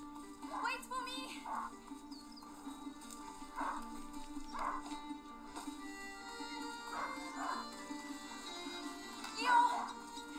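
A hunting dog in the video game A Plague Tale: Innocence gives repeated short barks and whimpers at a moderate distance, spaced every second or two over a steady game ambience hum.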